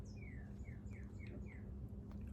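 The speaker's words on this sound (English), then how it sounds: "That bird is very distracting. Outside if you can hear it" A bird calls outdoors in a short series of five or six quick, thin, descending chirps that are faint and distant over a steady low background hum.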